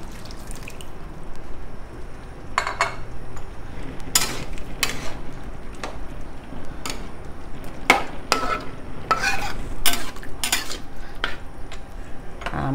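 Boiled beef and its broth go into a pot of beef curry with a wet, sloshing stir, broken by sharp metal clinks and scrapes of a utensil against the pot, close and without talk.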